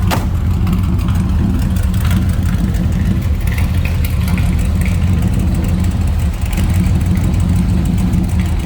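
A 1963 Chevrolet Corvette V8 idles steadily through its side pipes, a loud, close, continuous low rumble with a slightly lumpy rhythm and no talking.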